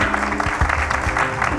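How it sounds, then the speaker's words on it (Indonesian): Brief audience applause welcoming Ustadz Danu at a religious gathering, a short dense wash of clapping from a crowd, close and fairly steady. "semuanya boleh kita berikan tepuk tangan untuk Ustadz Danu"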